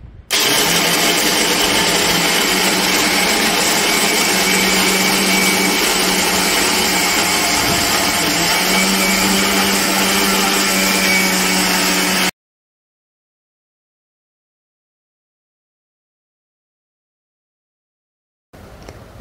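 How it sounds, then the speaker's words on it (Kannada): A mixer grinder pulverises roasted dry fruits into a fine powder with a loud, steady motor whir for about twelve seconds. It then cuts to silence, and a brief burst of sound returns at the very end. "ನಾವು ಮಿಕ್ಸರಲ್ಲಿ ಇದೊಂದು ಫೈನ್ ಪೌಡರ್ ಮಾಡಬೇಕು."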